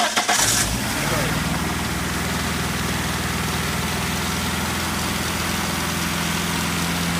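A Neon circle track race car engine cranks briefly and catches, then settles into a loud, steady, rumbling idle close by.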